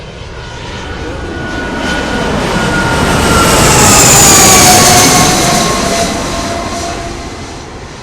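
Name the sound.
airplanes at airport runway near stadium in Crete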